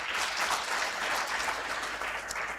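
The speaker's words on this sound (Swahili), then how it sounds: "Mpaka tu hapo tumpigie makofi balozi." An audience at a graduation ceremony applauds the ambassador, producing a steady, even wash of many hands clapping at moderate distance for a few seconds, with no speech over it.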